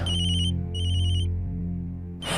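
A phone ringtone chimes in two repeated electronic bursts over a low sustained musical tone.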